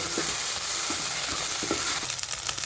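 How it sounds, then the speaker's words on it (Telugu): Ginger paste spitting and sizzling in hot oil for an egg masala curry, a steady loud fry with occasional stirring scrapes, no voices. "ఇది కూడా పచ్చి వాసన పోయే వరకు ఫ్రై చేద్దాం"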